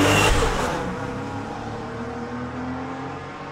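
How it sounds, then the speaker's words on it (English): A Porsche 993 engine, recorded in stereo in 2005, gives a loud burst that settles into a steady, sustained drone. No voices are present. "This is a space stereo recording of a Porsche 993 that I made in 2005."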